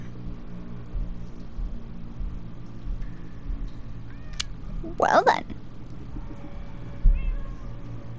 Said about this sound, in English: Weird. That's a cat.